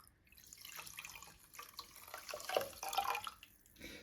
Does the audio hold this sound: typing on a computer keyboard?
no